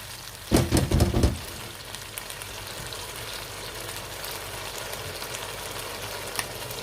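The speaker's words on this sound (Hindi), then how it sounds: "आपने इसे अच्छी तरीके से भून लेना है जब तक कि इसकी खुशबू फिनिश हो जाए" Garlic and ginger paste fries in a pan for Peshawari charsi chicken karahi: a short burst of louder sizzling and stirring near the start, then a soft, steady sizzle alone.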